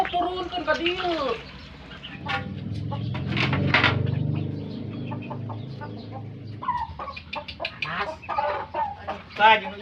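Chickens clucking and squawking close by, with one drawn-out cackle early on and quick clucks later, while people talk in the background.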